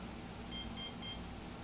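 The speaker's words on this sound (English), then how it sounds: "you're just going to hear 1 beep and you have to push it down." Three short, clean electronic beeps from a quadcopter motor ESC during throttle calibration on an F450 kit, evenly spaced and fairly faint over a steady background hum.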